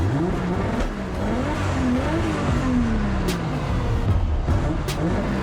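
A loud car engine revs and drops repeatedly, its pitch wandering up and down, with occasional sharp pops breaking through the steady roar.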